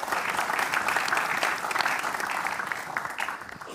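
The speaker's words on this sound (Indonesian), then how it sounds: "Minta tepuk tangannya teman-teman semua." A live stand-up comedy audience claps in a dense, steady wave of applause, fairly close and full, with no voices on top.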